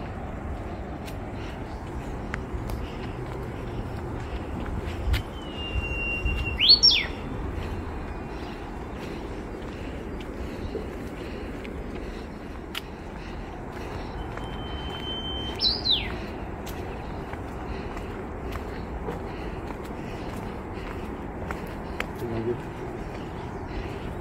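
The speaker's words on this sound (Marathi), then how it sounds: "पक्ष्यांचं, वाऱ्याचं, झऱ्याचं इतकं गोड हितगुज चालू होतं" Two short, high bird calls ring out a few seconds apart over a steady outdoor background hum near Vashisht village, Manali, with nothing else standing out.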